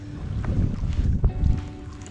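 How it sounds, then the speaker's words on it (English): Paddle strokes from a stand-up paddle board, an iRocker All-Around 11, out on open water: a couple of soft, muffled splashes and swishes heard close by, with wind rumbling over the microphone. "like each paddle stroke I do, it's just nice and smooth"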